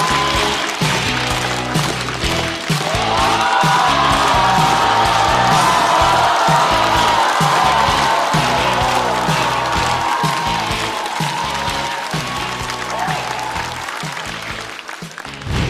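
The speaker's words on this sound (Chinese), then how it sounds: "掌声有请二哥" A stand-up comedy audience breaks into sustained, loud applause with cheering and whoops as a comedian is welcomed onstage, a dense wash of clapping holding steady for many seconds before easing slightly near the end.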